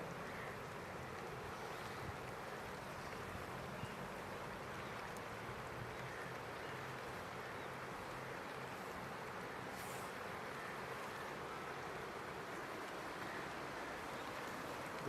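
A flood-swollen river in Nepal, now slightly receded, rushes past in a steady, even roar that is fairly faint and distant, with no voices.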